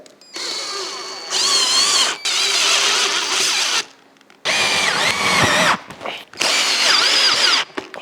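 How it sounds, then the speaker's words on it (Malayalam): A power drill drives a self-tapping screw into a pre-made hole, loud and close, in several whirring bursts that rise in pitch and stop between bursts, with short pauses of near silence. "ഇത് നമ്മളുടെ സെൽഫ് സ്ക്രൂ എടുത്ത് നമ്മൾ ഇട്ട ഹോളിൽ വെച്ച് അടിച്ചു കൊടുക്കുകയാണേ"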